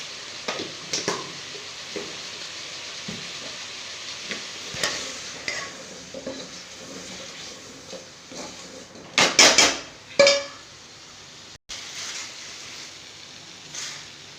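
Coriander powder stirred into a vegetable kurma in a metal pot, with scattered spoon scrapes and clinks against the pot, a few louder knocks near the end, and quiet gaps between strokes.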